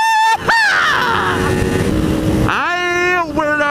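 A motorcycle engine revved hard on the road, loud and close, its pitch climbing steeply, dipping briefly, then climbing again in a second strong throttle surge.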